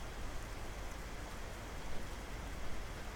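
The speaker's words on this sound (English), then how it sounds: "love the sound of the rain here" Steady rain ambience in World of Warcraft, a soft continuous hiss of falling rain with faint pattering, even and unbroken throughout.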